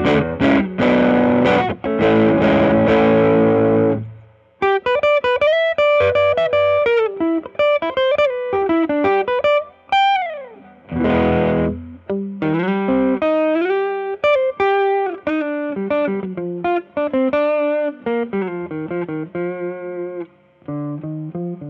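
Ernie Ball Music Man Cutlass HT electric guitar with heat-treated pickups, played through a boost: loud, driven chords at first, then a long run of sustained single-note lead lines with bends, alone and without voices.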